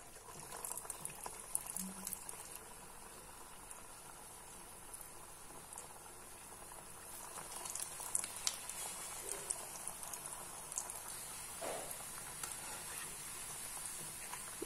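Pumpkin cutlets frying in hot oil over a medium flame, a soft steady bubbling sizzle with faint crackles, quiet and continuous throughout.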